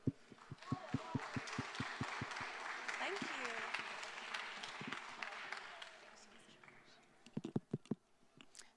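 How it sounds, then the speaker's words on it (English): A conference audience applauds, a few distinct early claps swelling into a broad wash of clapping that fades, with scattered close claps and some voices underneath. "Let's have a round of applause."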